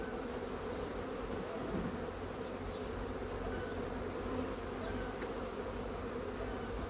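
Honey bees drone in a dense, steady buzz while a crowded colony is being moved into another hive, the hum close and continuous throughout with no voices.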